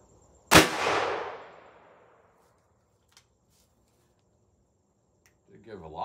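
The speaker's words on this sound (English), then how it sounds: "Ruger GP100 5-inch barrel, shot number 3 with the Barnes" A single sharp, loud gunshot from a Ruger GP100 .38 Special revolver with a 5-inch barrel firing a Barnes 125 grain +P+ round, cracking once and ringing off over a couple of seconds, followed by quiet and then a voice.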